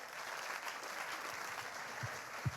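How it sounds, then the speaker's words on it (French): An awards-ceremony audience applauds the nominees, a fairly quiet, even wash of clapping with a couple of soft thumps near the end. "On les applaudit, s'il vous plaît"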